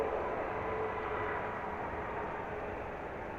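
A DHL cargo airplane at London Luton Airport gives a steady, broad, distant roar that fades slightly over a few seconds, a continuous jet rumble with no voices.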